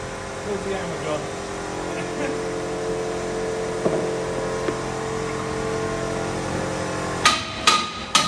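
A hammer strikes metal on a monster truck chassis during workshop modification, with three or four sharp, loud blows near the end following a stretch of low shop noise and brief voice.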